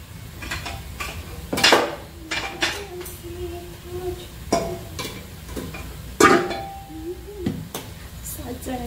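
Capsicum being chopped on a board in a home kitchen, a series of irregular sharp knife knocks with some clatter, close and moderately loud, with people talking in the background.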